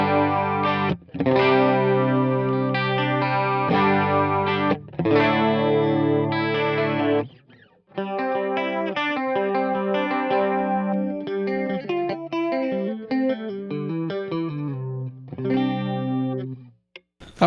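Electric guitar run through a Fractal FM9's warm stereo chorus plays shimmering sustained chords, then a string of picked single notes and more chords, the wide, wavering modulation clear and up close with no talking.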